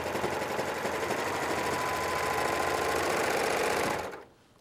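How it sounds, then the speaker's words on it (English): A serger stitches down the edge of fabric with a loud, continuous buzzing hum that runs steadily for about four seconds before winding down and cutting off. "So let's simply just stitch right down the edge of our fabric."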